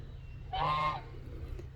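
A pet goose gives a single loud, nasal honk lasting about half a second, close by, over a steady low background hum.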